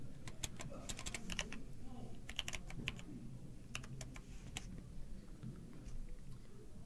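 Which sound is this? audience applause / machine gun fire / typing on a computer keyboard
typing on a computer keyboard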